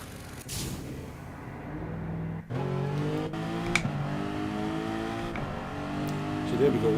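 A race car in Gran Turismo 7 accelerates out of the pits on fresh soft tyres, its engine note climbing steadily through the gears with rising revs, heard under someone talking.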